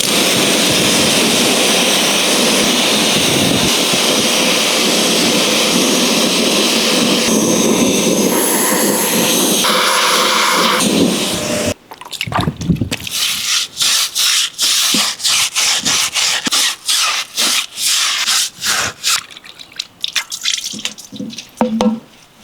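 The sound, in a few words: pressure washer cleaning car interior parts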